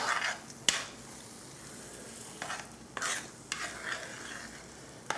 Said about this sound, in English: Okay, and we stir it all together.